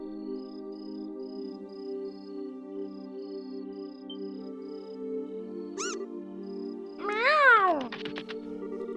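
Cat meowing in the video game Trails in the Sky: a single short meow, then a louder drawn-out meow near the end over a steady soft game music bed.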